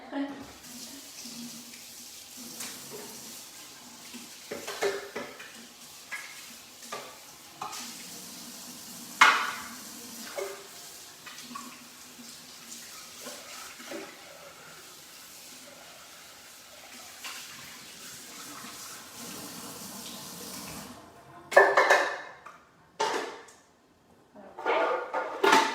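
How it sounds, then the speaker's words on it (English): Food processor parts being rinsed under a kitchen tap, with water splashing and running in uneven bursts plus occasional clatters of plastic parts, fairly quiet and close, with a louder splash near the end. "I'm going to rinse this off really quickly."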